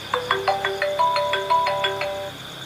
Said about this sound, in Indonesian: Aduh, pamajikan orang telepon euy.